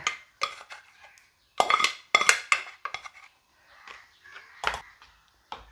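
Cooked jackfruit seed curry is moved into a clay pot with irregular clinks and scrapes of a metal utensil against cookware, in close, sharp bursts separated by brief silences.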